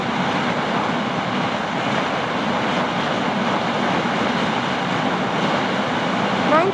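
Riding a Honda Fazzio scooter fitted with a torsion controller at full throttle brings loud, continuous wind buffeting over the microphone that masks the engine and stays steady throughout.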